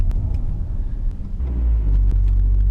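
A Ford Fiesta ST fitted with a Mountune rear roll motor mount idles as a steady low rumble heard from inside the car, loud and close, with a slight rise in engine drone partway through and no talking.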